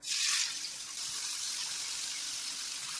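Chicken 65 pieces frying in hot oil, a loud burst of bright hissing sizzle at the start that settles into a steady, continuous sizzle.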